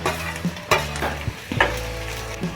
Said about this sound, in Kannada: ಈಗ ಇದಕ್ಕೆ ಈರುಳ್ಳಿ ಹಾಕಿ ಫ್ರೈ ಮಾಡ್ಕೊಳ್ಳೋಣ.